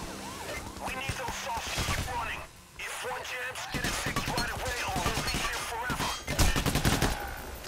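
Gunfire from cops and crooks in Payday: The Heist, dense overlapping bursts of shots running nearly throughout, loud and busy with clattering effects, while voices talk over the shooting.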